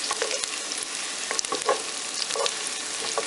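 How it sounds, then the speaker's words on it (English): Chopped garlic sizzles in hot bacon fat in a deep pot for Southern-style country green beans, a close, steady frying hiss with intermittent stirring scrapes and no talking. "You don't want that garlic burning."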